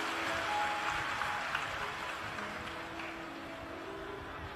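An audience at a Shiv Mahapuran katha, a Hindu religious discourse, claps to welcome the host family. The applause is a steady, dense wash that holds at a fairly even level throughout.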